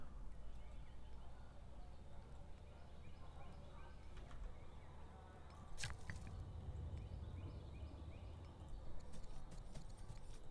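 Horse hooves clip-clop in the strategy video game Old World, set against a steady bed of game ambience, with a sharper burst of activity around the middle.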